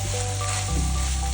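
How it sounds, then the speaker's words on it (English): Kheema with mint and cilantro sizzles loudly in a pan as it gets a quick stir, a brief close burst of frying with a low hum underneath. "Okay, and we're just giving that a stir."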